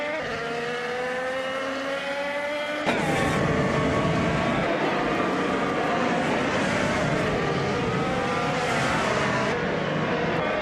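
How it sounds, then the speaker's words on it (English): A Chevrolet IndyCar engine roars at high revs in a racing video game. It is a loud, continuous, harmonic whine that drops sharply in pitch around the three-second mark, then keeps up a steady engine drone. "Maya is currently in 11th place driving a Chevrolet IndyCar."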